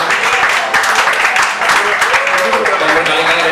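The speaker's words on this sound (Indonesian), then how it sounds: "tepuk tangan buat teman-teman Makassar dong" An audience at a live concert in Makassar claps in loud, dense applause that continues steadily throughout, with crowd voices mixed in.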